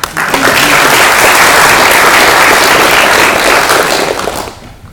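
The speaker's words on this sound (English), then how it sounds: "we should all give a round of applause to Peter for all the work he's done in bringing us all together" Loud, dense applause from a conference audience at a Droidcon developer event, a sustained roar of many hands clapping for several seconds before tapering off near the end, no voices over it.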